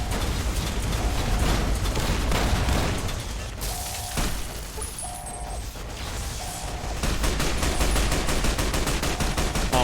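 Combat in the video game Fallout: New Vegas, with a rocket launcher fired amid loud continuous mechanical clatter and rapid gunfire bursts, a repeating tonal beep cutting through the dense, close din.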